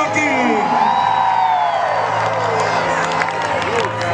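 A church congregation shouts and cheers at a preacher's call for a cry of glory, a loud sustained wash of whoops and voices with a few claps, filling the whole moment.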